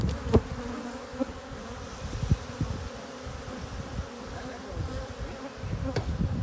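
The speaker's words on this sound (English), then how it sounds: "I never realized I knocked it and I heard buzzing." A continuous low droning hum of bees swarming around an opened hive during an inspection, steady and close with a few sharper knocks and rises in intensity, no voices.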